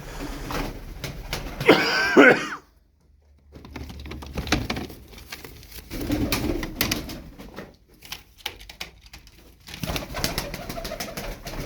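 Tumbler pigeons cooing in a loft, soft throaty coos mixed with scuffling and wing patter, fairly close, in uneven bursts with a brief quiet gap.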